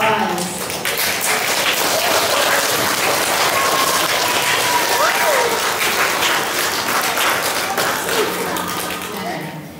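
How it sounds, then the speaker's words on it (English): A school awards assembly audience claps loudly and steadily, with children's voices and whistles mixed in, the applause tapering toward the end. "Please give them another round of applause."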